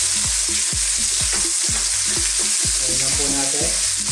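Ginger, garlic and onion fry in a hot pan for sweet and sour shrimp, a steady sizzle broken by rhythmic scraping and stirring strokes, close and loud, with no voices.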